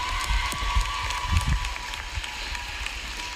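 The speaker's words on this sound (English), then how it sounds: "Let's give them a great big round of applause." Audience applause at a summer program commencement, a fairly quiet, steady patter of many hands with scattered low thumps and a faint hum, with no one talking.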